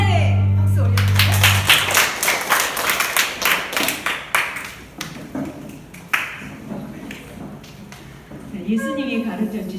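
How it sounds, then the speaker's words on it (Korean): A children's church congregation at a Kids Gloria worship service claps in thanks to God, a burst of rhythmic, fairly loud hand claps that fades out, with a voice speaking over it. "우리 하나님께 감사의 박수 올려주세요"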